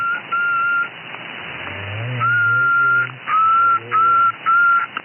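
Whistled melody carried over a shortwave radio channel, clear tonal phrases repeating in short bursts with gaps, thin band-limited sound and faint low voice-like hum underneath.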